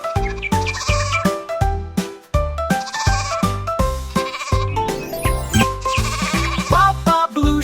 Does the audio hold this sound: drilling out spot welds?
no